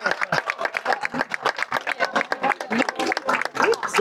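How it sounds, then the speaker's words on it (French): Clapping from an assembled crowd for Bernay's elected officials comes as a busy, irregular patter of many hands, fairly close and sustained for several seconds, with a few voices faintly mixed in. "que vous pouvez applaudir"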